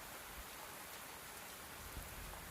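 Steady rain falls on a surface in a soft, even wash of patter, faint and continuous with occasional slightly louder drops and no voices.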